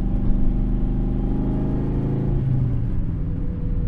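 Nissan 240SX exhaust with a steady low rumble and a deep note that drops away at a gear shift, followed by a brief popping burble, heard close and loud.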